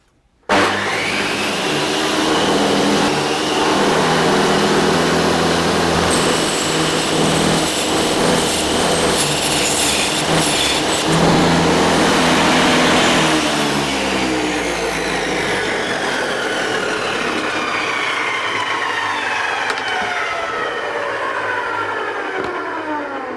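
Loud, continuous high-pitched whine and screech of a power saw blade biting through aluminium, sustained for many seconds before the pitch slowly falls away.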